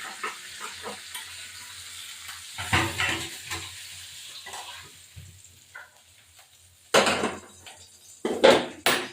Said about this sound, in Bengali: এবার এটা ভাজা হোক